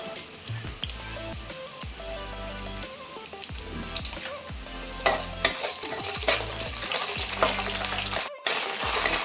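Curry leaves with garlic and ginger paste frying in a pan over fried onion for Maharashtrian stuffed brinjal masala, a steady close sizzle broken by stirring scrapes and a few clinks, with no talking.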